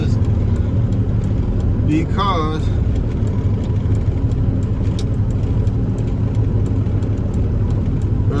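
A Peterbilt 379 truck with a CAT 3406B engine and a new turbo runs with a steady, loud low engine drone throughout while it backs out, and someone speaks briefly over it.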